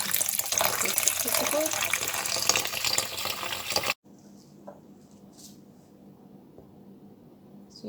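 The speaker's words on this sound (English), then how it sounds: "So I continue to rinse them until no signs of any soap is left." Kitchen tap water pours loudly and steadily while food is rinsed, then stops abruptly halfway, leaving quiet room tone with a few faint clinks and a brief spoken remark.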